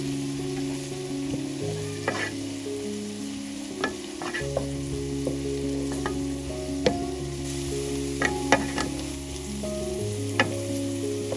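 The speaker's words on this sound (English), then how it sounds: "So since we have sauteed our onions, we're adding in our garlic." Garlic sautés with onions in a pan for cream of mushroom soup, a steady close sizzle punctuated by sharp utensil taps and scraping stirs, with no talking.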